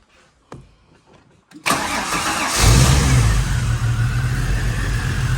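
A few faint clicks, then the L67 supercharged V6 of a Holden VY drift car cranks and catches, settling into a loud, steady idle close by.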